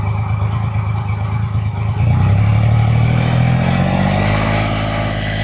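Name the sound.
Triumph Rocket 3 R motorcycle with Storm Werkes exhaust revving at 2,000 RPM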